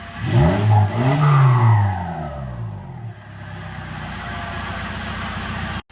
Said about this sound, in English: Give it another rev. Give it another rev.